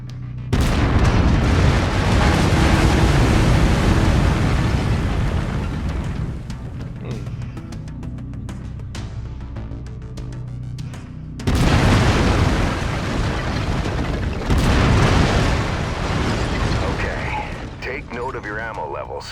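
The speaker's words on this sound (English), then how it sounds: "I've mapped the autocannon to Weapon Group 1. You're free to fire whenever you're ready." Heavy autocannon fire from a video game pounds out in loud, sustained booming bursts, easing off midway and then resuming, with a voice talking in between.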